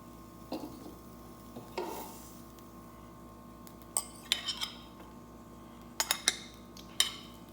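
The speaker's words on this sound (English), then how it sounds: "your fork and just fork them into your bowl" A fork scrapes and clinks against a bowl while ramen noodles cooked on a George Foreman grill are moved into it, giving scattered light clinks and taps over a low hum, with no talking.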